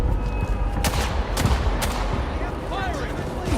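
Gunfire in a vampire-themed PS5 game: several loud shots crack over a rumbling battle din, with voices shouting in the mix.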